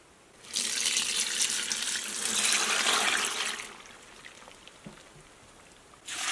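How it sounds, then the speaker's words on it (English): Water streams into a jar of apple peels and cores for homemade apple cider vinegar, a loud continuous splashing pour that stops after about three seconds, then a quieter trickle, with a fresh gush starting again at the very end. "This is the last little bit of water we ended up adding in."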